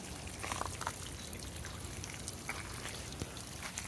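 Water leaks from a burst, frozen garden pipe outdoors in icy weather as a faint, continuous trickle and patter with scattered tiny drips.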